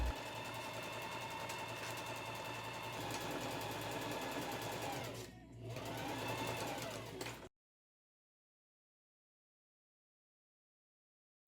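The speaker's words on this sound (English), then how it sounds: "we're going to sew almost all the way around" A sewing machine stitching around a patchwork bucket hat runs in a steady, fast mechanical whir for several seconds, dips briefly, then stops abruptly, leaving silence.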